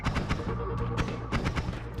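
Explosions in the game Noita, a quick series of sharp booming blasts about every few tenths of a second, loud and close over a dense rumble of game noise.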